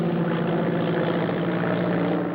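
A propeller airplane engine drones steadily in flight, a loud, continuous, even hum with no talking over it.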